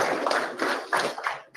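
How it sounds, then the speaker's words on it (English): A group claps at a morning safety meeting, an irregular patter of hand claps in close bursts that fade out quickly. "Give Alicia a round of applause there this morning."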